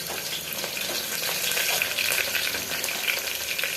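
Mustard seeds, onions and curry leaves fry in hot oil for a potato and green pea curry, giving a close, continuous crackling sizzle with scattered sharp pops.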